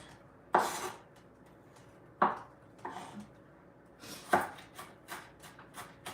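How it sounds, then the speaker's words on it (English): A knife chops onions on a board for Afghan rot, a few sharp, separate knocks spaced irregularly, then a quicker run of lighter taps, close and clear with no talk. "So we're going to cut the onions."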